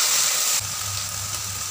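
Long beans and beef stir-fried in a pan, a loud bright sizzle that drops slightly partway as the food settles, continuous with no talking.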